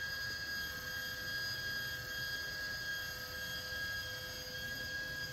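An Arccaptain MIG200 MIG welder's wire feed motor runs as a steady, fairly faint whine with a constant hum, heard alone without speech.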